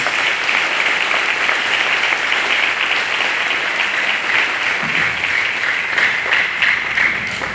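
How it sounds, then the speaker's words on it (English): Audience applause fills an 8th grade promotion ceremony, a steady, dense wash of clapping that holds at full strength for the whole stretch without any speech over it. "Could you please give a big round of applause to our parents, to our teachers, and all staff members."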